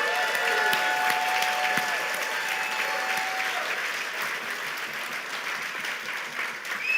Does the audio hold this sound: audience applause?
yes